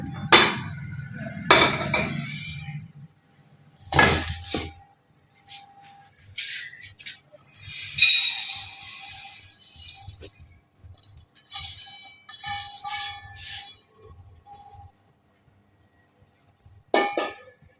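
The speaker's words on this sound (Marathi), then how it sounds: "चला मग आता हे गहू आपण गॅसवर भाजून घेऊ।" Wheat grains roasted in a pan on a gas stove, stirred in intermittent bursts of rattling, clinking and scraping, with quiet pauses between them.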